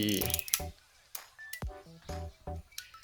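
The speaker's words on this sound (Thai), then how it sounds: "ต่อมาเทสสปีชัตเตอร์ สปีชัตเตอร์ B อันนี้ผมเทส B" A Rollei 35 camera shutter fired on the B setting, giving several small sharp mechanical clicks and ratcheting snaps, close and quiet, with brief pauses between actions.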